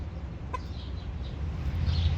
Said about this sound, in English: You guys cluck like chickens?